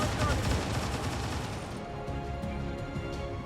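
Sustained suppressing fire on a Muton in XCOM 2 Long War 2, a dense rattling burst of rapid gunshots that cuts off partway, leaving scattered clicks and quieter game ambience.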